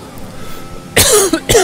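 A man gives two sharp coughs close to the microphone, the first harsh and drawn out, the second short, after a stretch of quiet background.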